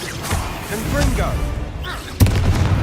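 A Confringo blasting spell in Hogwarts Legacy bursts with one sharp, loud explosive impact near the end, following a stretch of quieter magical whooshes and a voice speaking over the game.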